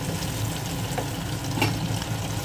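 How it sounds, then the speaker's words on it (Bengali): Garlic frying in butter with black pepper for butter garlic chicken, giving a steady, close, dense sizzle that runs unbroken throughout. "রসুনটাকে বাটারের মধ্যে ভালোভাবে লাল লাল করে ভেজে নেব"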